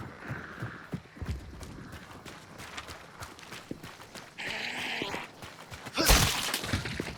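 Horses in the Hunt: Showdown video game, with irregular hoof clip-clop close by over game ambience, a brief harsh burst midway and a loud sharp crack near the end; any neigh is faint.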